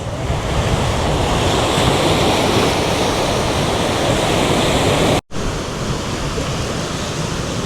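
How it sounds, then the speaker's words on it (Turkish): Steady loud roar of surf on a tropical island beach, broadband and continuous with wind noise on the microphone, broken by one very short dropout. "Suyun dalgalı olması da ayrı bir şey katmış buraya."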